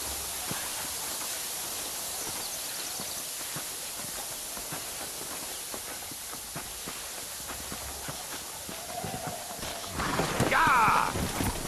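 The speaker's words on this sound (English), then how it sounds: "horses are over here" Horses trotting in the video game Red Dead Redemption, a steady clip-clop of hooves running through the whole stretch over a hissing background, louder near the end.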